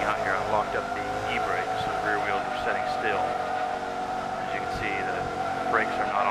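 A car in the racing game Forza Motorsport 2 does a burnout with the e-brake locked and the rear wheels spinning: a loud, sustained engine roar with wavering pitch and squealing tires runs continuously throughout.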